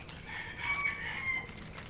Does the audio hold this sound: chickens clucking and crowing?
yes